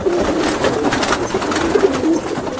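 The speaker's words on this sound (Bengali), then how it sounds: "এখানে হাই ফ্লাইং পায়রা আমরা দেখছি" A flock of high-flying pigeons, including Giribaz and Matras breeds, just released: close, continuous cooing and fluttering bird sounds fill the clip with no talking.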